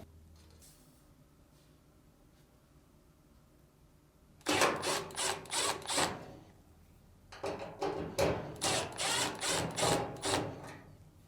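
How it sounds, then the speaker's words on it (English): A screwdriver removes screws from the upper frame plate of a Samsung dryer during a drive motor replacement, making two loud bursts of rapid ratcheting clicks close up, separated by a quiet pause. "Next, remove the screws on the upper frame plate."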